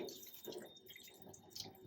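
A dyed hanky is rinsed under a cold running tap, giving a steady, close splashing and trickling of water with faint drips throughout and no speech.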